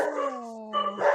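Dogs at home set off by someone at the door, giving a short drawn-out howl with barking tones, one of three dogs in the house, heard fairly close and alone for about a second.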